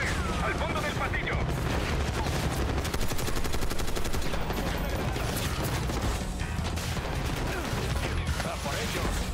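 Machine gun fire in the Call of Duty Black Ops 6 video game, a dense, continuous rattle of rapid shots and booms filling the whole stretch, with a voice speaking over it.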